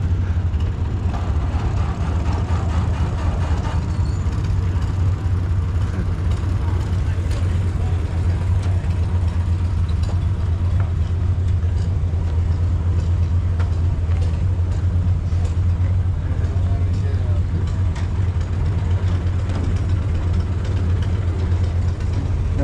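An antique Model A tractor engine runs at a pre-1930 tractor auction, its steady low idling rumble loud and continuous throughout, with people talking over it.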